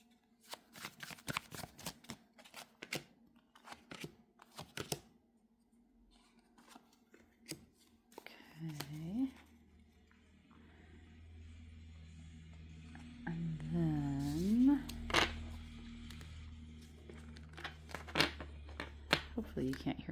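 Tarot cards are shuffled in quick riffling bursts, close and crisp, followed by a low hum and a voice speaking softly under the rustling.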